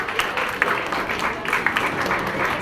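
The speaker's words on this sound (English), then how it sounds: "Give them a big round of applause, children." Children in a school audience applaud a prize winner at a science expo ceremony, a fairly loud, busy spread of clapping filling the hall with no clear talk over it.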